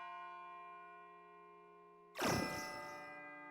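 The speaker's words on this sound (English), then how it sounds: "It sounds like a bell, but where's it coming from?" A bell in the video game Persona 3 FES strikes once with a loud, bright clang over a quiet, steady tonal drone, then rings out in a long decaying shimmer.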